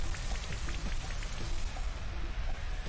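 Rain Dance move in Pokémon Sword and Shield, a steady patter of synthesized rain with light drop clicks, soft and continuous over game music.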